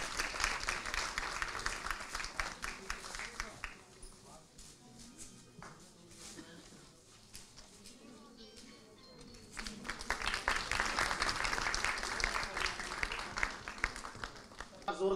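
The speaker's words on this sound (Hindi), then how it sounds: "जोरदार तालियां वर्षा जी के लिए" Audience applause at a Women's Day event: a crowd claps loudly and steadily, dips to quieter clapping under a speaking voice in the middle, then swells again.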